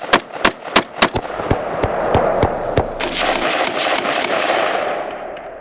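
Sharp close gunshots crack in a quick irregular string, about a dozen reports in the shooting of a police officer during a speeding stop, trailing into a sustained echoing rumble that fades out.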